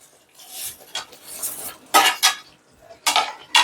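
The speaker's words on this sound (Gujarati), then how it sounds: "હવે આપણે તેમાં આ જે બટેકા છે તે મિક્સ કરી લઈશું" A utensil scrapes and clanks against a pan as potatoes are mixed into gravy for dum aloo, several close metallic strokes in an uneven rhythm with short pauses between.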